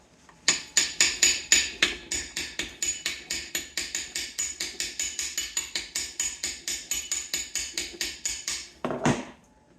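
A hammer taps steadily around the edge of an aluminum part on a BMW R69S motorcycle engine, dozens of quick, evenly spaced close metallic knocks that run for several seconds and then stop.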